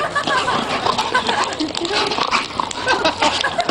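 A pit bull barks and yips amid a dense, noisy mix of voices and background clatter, the dog sounds close and fairly loud but partly buried under the surrounding chatter.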